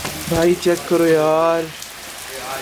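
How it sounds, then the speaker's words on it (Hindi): Heavy rain pours steadily, a broad hiss under someone speaking a few words up close. "इतनी तेज बारिश हो रही है।"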